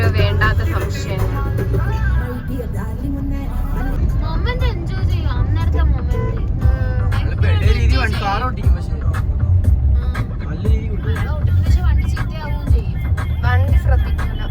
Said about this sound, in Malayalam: നല്ല തിരക്കുണ്ട് റോഡിലും ബീച്ചിലും ഒക്കെ